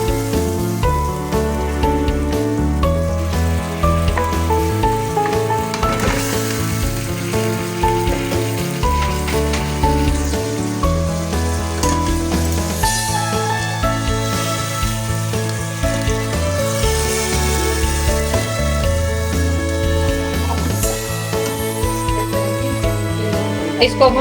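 Fish heads simmering in a yogurt curry in a pan give off a steady, loud sizzle and bubbling crackle that runs without a break throughout.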